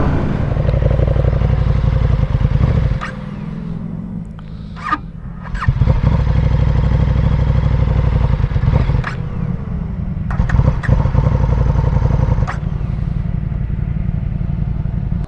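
A KTM Super Duke 1290 R motorcycle engine with a failed aftermarket part runs close by, cuts out, then rumbles back to life and keeps idling with brief clattering changes in tone.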